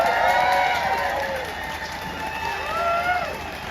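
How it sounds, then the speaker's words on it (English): Street crowd at a farmers' protest in London applauding a speaker, a dense clatter of clapping with cheers and whistles rising and falling across the clip, and a voice calling over it. "Come on, another big round of applause for Jess Sharp there."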